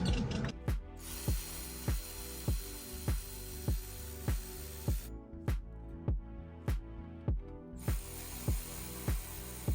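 A ratchet wrench with a 10mm socket tightens the battery hold-down on a Honda Accord, giving a steady run of close, crisp clicks at an even rhythm, about two per second, without talk.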